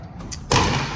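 A dusty Otis hydraulic elevator door in a parking garage closes with a single abrupt thud and rush of noise after a few faint clicks.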